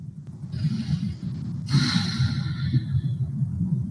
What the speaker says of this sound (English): Did you hear that breathing from the judge?